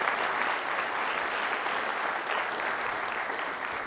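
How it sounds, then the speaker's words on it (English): An audience at a Long Beach mayor's development forum breaks into a steady, even round of applause, heard at a moderate distance with no talking over it. "Let's give them a round of applause."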